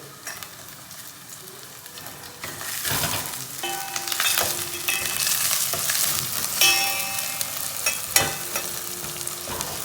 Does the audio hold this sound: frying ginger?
yes